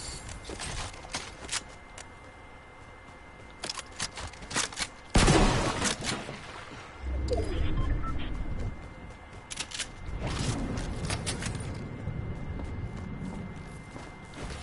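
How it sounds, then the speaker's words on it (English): Submachine gun fire in a video game, with a loud burst around the middle followed by further rattling volleys and quieter clicks and clatter, no talk. "SMG time."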